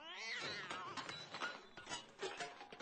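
A cat meows in an alley, sounding close and fairly quiet, with a few drawn-out wavering cries alone and no talk.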